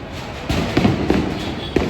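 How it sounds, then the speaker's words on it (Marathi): Diwali firecrackers burst in a busy crowded street, with several sharp cracks and pops over a steady background din. "जे फटाके फोडत आहेत"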